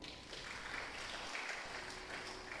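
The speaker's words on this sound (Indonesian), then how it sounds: "Tepuk tangan buat Tuhan." A church congregation in Lubuk Pakam claps together, a faint, continuous patter of many hands heard from a distance.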